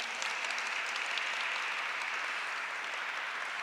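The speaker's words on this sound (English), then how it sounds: "Big round of applause." Steady, loud audience applause from a crowd at a Lunar New Year community event, sustained clapping throughout with no pauses.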